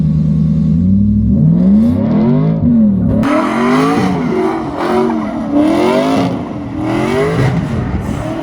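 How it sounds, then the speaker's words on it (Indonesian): A car drifting donuts to the right, its engine revving loudly in repeated rising and falling surges, with a continuous whirring, tyre-scrubbing roar joining in partway through and staying close throughout. "Jadi putar ke kanan dulu, langsung tinggal ngegas aja."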